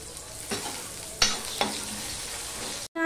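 Chopped onion fries in a pan with a steady sizzle, broken by a few scraping stirs of a spoon, and a brief dropout near the end.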